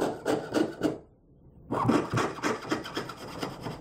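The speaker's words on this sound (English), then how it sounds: "So I just take my saw and then I just lubricate it with a little wax and I'm going to just cut out this back plate." A wax-lubricated jeweler's saw cuts out a ring back plate with a steady rasping back-and-forth stroke, close and alone, pausing briefly before resuming.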